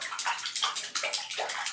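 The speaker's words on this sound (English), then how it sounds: "Splish Splash. I'm taking a bath." Water sloshing and splashing in a bathtub, a series of bright, rhythmic splashes close by and fairly loud, with no voices.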